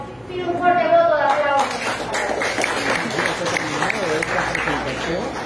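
A crowd breaks into applause for Rafael López Aliaga at a political press event in Pichanaki, with a voice speaking over the start before dense clapping takes over and continues steadily.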